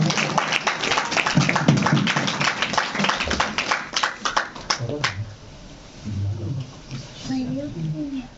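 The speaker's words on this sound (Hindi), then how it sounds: "पास्टर अशोक जी का तालियों के साथ स्वागत करेंगे।" Applause from a church congregation welcoming a pastor at a ninth-anniversary healing ministry gathering: dense, loud clapping for about five seconds, then fading into scattered voices and murmuring.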